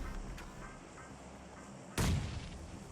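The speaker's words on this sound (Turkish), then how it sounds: "Bomba attım duvara." A bomb thrown against a wall explodes in a video game, a single sharp boom that bursts loud after a low rumbling ambience, with the blast decaying over the final second.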